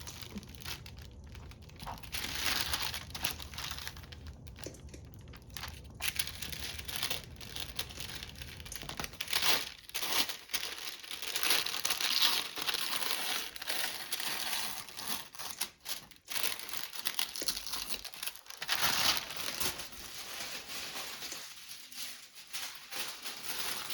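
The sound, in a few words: tissue paper being crinkled and torn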